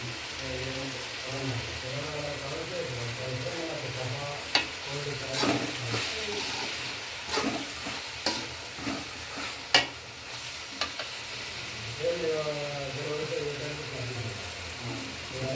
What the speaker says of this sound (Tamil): தக்காளி வதங்கிக்கிட்டு இருக்கு.